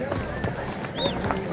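Horses walk along a mountain trail on the Amarnath Yatra route near Sheshnag and Poshpatri, giving light hoof clip-clops amid outdoor bustle. The steps are brief and irregular, and voices can be heard around them.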